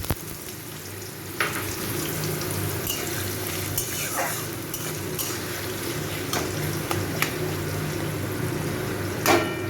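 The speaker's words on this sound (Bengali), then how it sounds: "আলুটাকে একটু ভাজবো।" Diced potatoes fry in a pan for a vegetarian banana-flower mochar ghonto with coconut and chickpeas, giving a steady close sizzle with occasional stirring scrapes and a louder clatter near the end.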